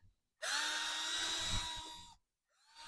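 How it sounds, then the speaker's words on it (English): A small power drill attachment whines steadily for nearly two seconds while planting in a farm bed, high-pitched and close, then cuts off before briefly starting up again. "We brought this little drill attachment."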